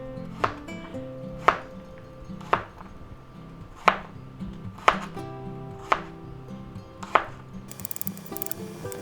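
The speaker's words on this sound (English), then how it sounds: "I like slicing them on a nice angle like that" Knife slicing cucumbers at an angle on a cutting board, seven sharp, evenly spaced chops ringing out close and clear over a faint background hum, with a brief clatter at the end.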